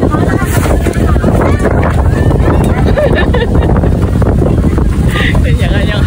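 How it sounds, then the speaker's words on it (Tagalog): Strong wind roars at a campsite during a stormy outing in Japan, buffeting the microphone in a loud, continuous rumble with gusty fluctuations, with a voice faintly under it. "Dali-dali na kami nagligpit ng mga gamit mga katol dahil lumalakas na ang hangin."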